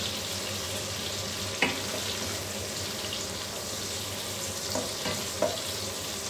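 Onions fry in oil with a steady, moderate sizzle, broken by a few sharp clinks of a utensil against the pan, close and without speech.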